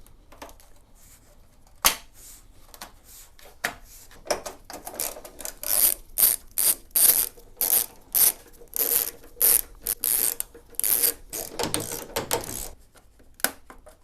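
A ratchet loosening a row of bolts on a BMW 530i with a manual V8: loud, close, rapid clicking in repeated bursts, separated by short pauses, with no speech.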